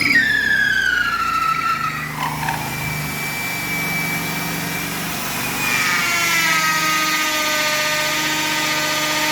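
Makita HP2050 corded drill, faulty and troublesome, whining motor that winds down then spins back up to a steady high-pitched run, close and loud, no voices.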